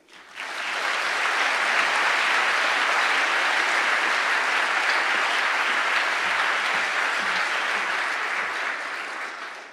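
A live audience applauds warmly as a youth poetry fellow is welcomed to read at an evening literary event, a steady, dense wash of clapping that holds for nearly ten seconds before tapering at the end.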